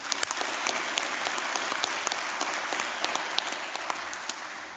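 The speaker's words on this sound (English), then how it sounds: "I'd like to give them all a round of applause" A room full of people at a college graduation ceremony claps steadily, a dense even patter of applause continuing throughout without a break.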